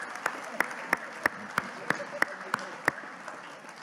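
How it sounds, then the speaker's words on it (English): Applause at an award dinner, heard as a spread of hand claps from a crowd of guests that keeps a steady, even rhythm throughout. "Please join me in one more round of applause to thank my fellow board members"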